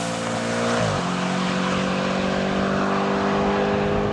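An Audi RS5 Cabriolet's engine is wound out through the gears, holding a loud, steady high-RPM wail with a brief pitch drop at a shift around one second before climbing again, close and alone.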